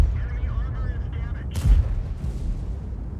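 A tank cannon shell fires in World of Tanks with one sharp, loud boom about halfway through, over a low, constant engine rumble that runs the whole time.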